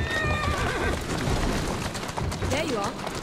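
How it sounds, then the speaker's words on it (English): Carriage horses whinny loudly while being whipped in Assassin's Creed Syndicate, several neighs over a dense, continuous bed of rumbling game noise and clattering movement. "Feel bad about whipping the horses"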